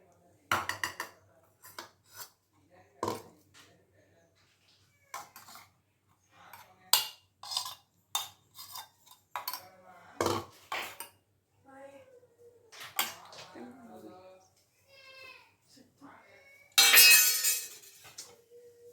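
Dishes and cutlery clink as chutney and lemon rice are served into a tiffin box, with scattered taps and scrapes of a spoon against containers, a few louder knocks, and a burst of clatter near the end.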